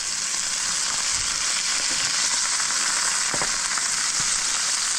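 Olive oil frying in a pan, a steady close hiss of sizzling that runs unbroken throughout, with a few faint clicks and stirring touches scattered underneath.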